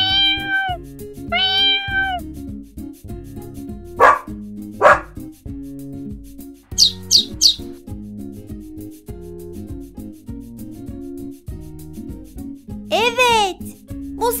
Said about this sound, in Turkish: Evet, bu sesler kedi, köpek ve kuş sesi.